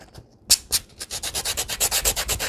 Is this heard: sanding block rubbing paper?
yes